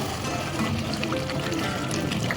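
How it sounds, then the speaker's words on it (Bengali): Hot water is poured into Bengali-style chicken kosha for gravy, giving a steady, close rushing splash that continues evenly throughout. "এরপরে একটু গ্রেভির জন্য জল দিয়ে দিলাম, গরম জল দিলাম"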